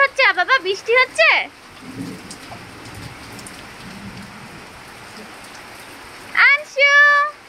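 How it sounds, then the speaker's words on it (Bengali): Steady rain patters in the background between bursts of a nearby voice, soft and continuous, with talk at the start and the end. "বৃষ্টি হচ্ছে?"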